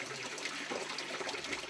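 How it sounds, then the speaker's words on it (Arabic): Spring water from a village drinking-water source flows and gushes steadily, a dense continuous rush that stays close and fairly loud for the whole stretch with no voices over it. "حين تستمع لوقع خرير الماء"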